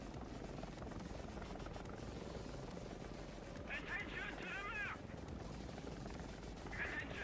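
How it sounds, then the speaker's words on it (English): An attacking helicopter in the War Thunder video game makes a steady, dense rotor drone, while brief tonal voice-like bursts rise over it. "heli rushed my ass"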